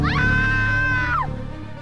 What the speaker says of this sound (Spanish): pude escuchar un fuerte grito a mi espalda. El grito de una mujer, que parecía bastante asustada.